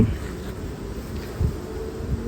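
Honeybees crawl over nectar-filled frames in a hive super, giving a soft, continuous buzzing hum close by with a few brief louder bumps.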